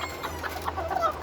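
Two bantam roosters, brothers, cluck and call softly at close range in a short burst of fowl vocalisations over a low steady background hum.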